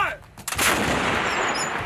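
A single loud, close artillery blast during a Table 6 artillery qualification by the 2nd Battalion, 17th Field Artillery Regiment, with a sharp report and a long, rumbling broadband wash afterward.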